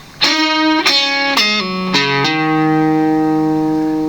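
An electric guitar plays the intro phrase of a song, tuned down to Eb: a handful of plucked notes and hammer-ons stepping downward, ending on a low sustained note that rings out, loud and close with slight effects.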